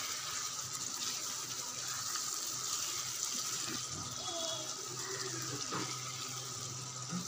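Hot water poured into a pan of mutton liver curry to make gravy, a steady continuous splashing pour with a faint bubbling sizzle running the whole time, no talk.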